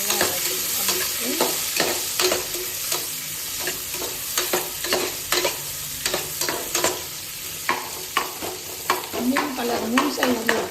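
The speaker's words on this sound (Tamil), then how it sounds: "இப்போ வந்துட்டு வெங்காயம் போட்டு நல்லா வதக்கிட்டு" Onions sautéing in a pan, with steady sizzling under repeated scraping stirs of a spatula at close range, the strokes recurring irregularly throughout.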